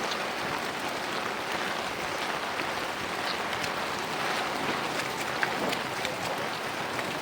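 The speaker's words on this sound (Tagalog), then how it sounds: "Ulan ng ulan." Steady rain pattering on a surface, a continuous even hiss of drops with no voices.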